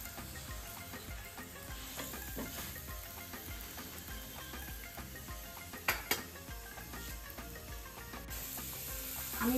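Aloo paratha frying in a little oil on a hot pan gives a steady, faint sizzle and hiss throughout, with a couple of brief clinks from a spatula or utensil against the pan near the middle.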